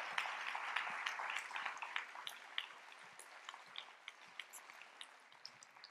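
Conference audience at a medical talk on metabolic psychiatry applauds: soft, fairly distant clapping that starts fuller and gradually thins into scattered individual claps.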